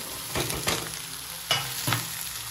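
Capsicum stir-fried with onions and chicken for chilli chicken in a hot pan, a constant sizzle broken by four distinct scraping strokes of a spatula, close and clear with no voices.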